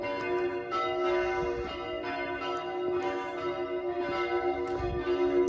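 Church bells ring at Burg Lichtenberg near Kusel, Germany, in a continuous overlapping peal of sustained ringing tones, loud and steady, with no voices.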